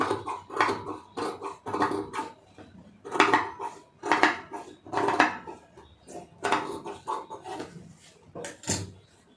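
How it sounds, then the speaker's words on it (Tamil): Scissors snip repeatedly through the surplus fabric of a pleated puff sleeve, a series of close, crisp cuts with short pauses between them and no voice. "அந்த எக்ஸ்ட்ரா உள்ள ஃபுல்லாக எல்லாமே கட் பண்ணி எடுத்துருங்க"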